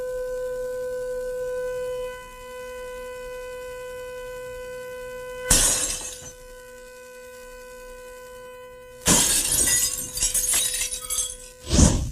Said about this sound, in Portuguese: E conforme eu aumento o volume, a taça vai quebrar.